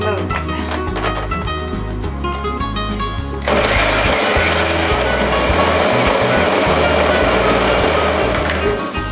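A blender blending coconut and water whirs steadily, its motor pitch jumping to a louder, rougher churn partway through as the contents swirl, continuing without pause to the end.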